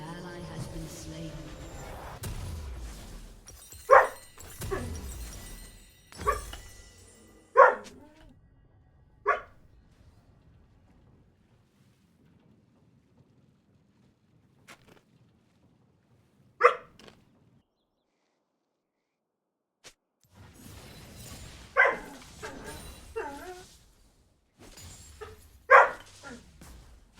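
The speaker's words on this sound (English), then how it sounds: "My dogs are making your dogs bark?" Dogs bark at a home watch party in short, loud bursts spread across long pauses, with people talking in between.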